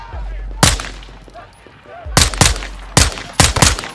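Several loud, sharp gunshot bursts from a Call of Duty: Modern Warfare 2 firefight against cartel hostiles, spaced irregularly with a quick double then triple volley near the end, over low ambient game sound.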